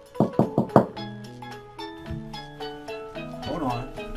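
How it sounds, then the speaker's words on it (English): Four quick, sharp knocks on a door at the start, close and distinct, followed by tonal music-like sounds. "Somebody's knocking on my door."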